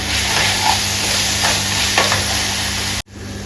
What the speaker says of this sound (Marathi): घालून घेऊया उकडलेले छोले मसाल्यात मिक्स करून घेऊया